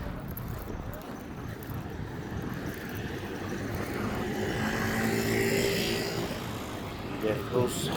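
A motorcycle passes by on an outdoor walk with a dog. Its engine builds gradually out of steady background noise, peaks at moderate distance and then recedes.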